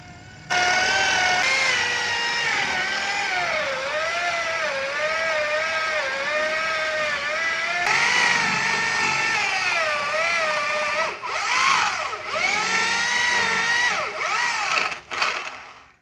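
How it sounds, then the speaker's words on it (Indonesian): A power drill with a 22 mm flat spade bit whines steadily under load, its pitch wavering as it bores, then dipping and surging near the end before cutting off. "masih menggunakan flat bit atau mata bor kipas yang sama"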